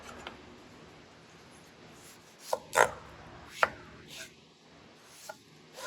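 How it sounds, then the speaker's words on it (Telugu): A knife cuts tomatoes into a few large pieces in a home kitchen, giving a handful of sparse, sharp chopping taps against a quiet background. "ఇప్పుడు ఈ టమాటాలు కూడా కట్ చేసుకొని"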